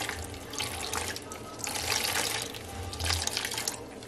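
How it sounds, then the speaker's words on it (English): Water squeezed by hand out of a grated cassava mixture while making cassava starch, trickling and splashing in uneven bursts close by with no talking. "I'm going to squeeze the water out."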